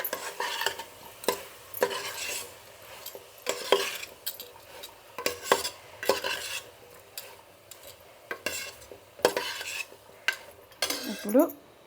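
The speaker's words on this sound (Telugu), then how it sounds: "దీన్ని అప్పుడప్పుడు కలుపుకోవాలి." A spoon stirs a mixture in a pan, scraping and clinking against the metal in repeated, uneven strokes with a faint sizzle beneath, close and clear with no talking.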